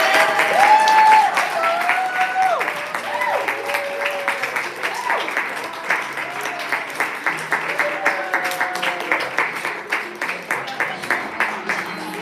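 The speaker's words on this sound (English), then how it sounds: "Applause." An audience at a Chicago Poetry Center reading breaks into sustained applause, with dense rhythmic clapping that slowly thins and fades. Voices come through faintly near the start.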